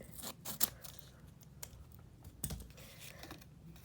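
Paper tape being cut for a cardboard dragon base gives a few faint, short snips and crinkles, quiet and close, with no talking.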